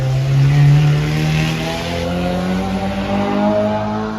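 A modified car accelerates hard on a race track, its engine note loud and rising with a steady harmonic drone and revving throughout, no voices over it.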